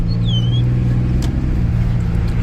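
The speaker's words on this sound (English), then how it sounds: "See if we can get some turbo noise out of this old girl." Turbocharged truck with a newly installed S&B air intake accelerating hard, a loud steady engine roar throughout with a faint high turbo whistle rising briefly near the start.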